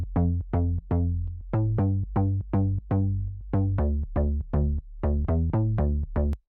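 A synth bass line pulses in steady rhythmic notes locked with a deep kick drum underneath, the combined groove loud and continuous, with no talking.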